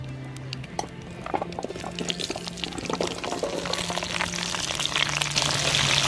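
Pieces of jackfruit sizzle and crackle in hot oil in a pan, a steady dense frying hiss with scattered pops that builds slightly louder toward the end, with no voices.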